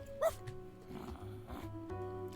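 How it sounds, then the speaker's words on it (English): A single short dog bark from the video game Date Everything, sounding once near the start over steady game music, followed by faint background sounds. "Bark once for yes and twice for no"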